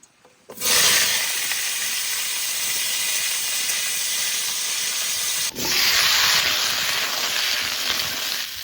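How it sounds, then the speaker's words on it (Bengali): Potatoes and pumpkin hitting hot mustard oil in a pan, a sudden loud hissing sizzle that holds steady, briefly dips, then surges again when more is added. "প্রথমে সর্ষের তেল দিয়ে দেবো। আলু কুমড়ো একটু ভালো করে ভেজে নেব।"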